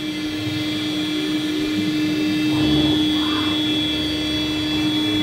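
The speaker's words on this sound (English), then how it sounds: "We're doing an air cut." A CNC wood router with an automatic tool changer runs an air cut just above a vacuum board, a loud steady motor whine with a constant high tone and a broadband rushing hum that swells slightly midway.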